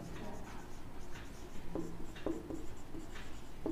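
A pen scratches out numbers by hand on paper during a Class 9 maths lesson, giving short, faint, intermittent strokes with brief pauses between them against a quiet room.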